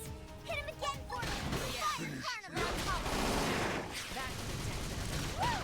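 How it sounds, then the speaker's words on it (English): Bursts of gunfire in Xenoblade Chronicles X Definitive Edition crackle amid a busy mix of effects and voices, with steady shooting and clashing noise running throughout. "We hearing massive gunfire to the west."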